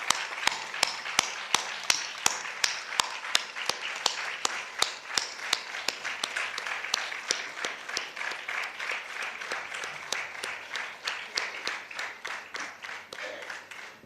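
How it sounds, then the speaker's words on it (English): Audience at a national psychology and homoeopathy seminar gives a round of applause for Madam Tiwari, dense steady clapping with distinct sharp claps standing out, sustained for the whole stretch and fading slightly toward the end. "please acknowledge her with the big round of applause"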